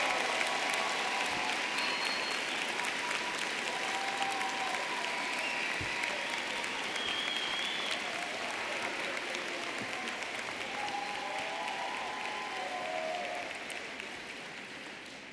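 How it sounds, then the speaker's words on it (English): A large audience applauding graduates at a university social work commencement ceremony: steady, dense clapping filling a hall for the whole stretch, slowly tapering toward the end, with a few faint voices and cheers within it. "let's give our graduates a round of applause"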